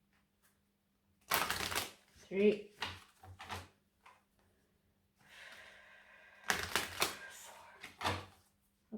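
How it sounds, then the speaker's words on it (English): A deck of tarot cards being shuffled in two separate bursts of rapid papery riffling, with quiet pauses between them and a few brief spoken words. "Sorry for the long shuffling, guys."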